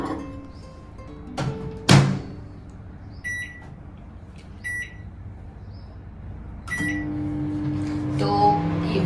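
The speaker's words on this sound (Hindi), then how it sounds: "सिर्फ आपको इसे माइक्रोवेव में गर्म करना रहता है।" A microwave oven heats bhaji in a hotel studio-room kitchenette, with a loud door thunk, short electronic keypad beeps, then a steady low running hum building toward the end.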